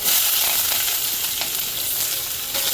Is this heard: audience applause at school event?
no